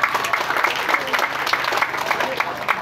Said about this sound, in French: Ça mérite quand même une acclamation.